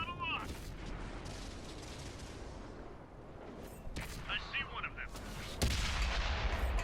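Booming cannon shots from a D.W. 2 tank ring out in World of Tanks on console, amid a busy game soundscape with rumbling engines, a heavy blast near the end, and some talk underneath.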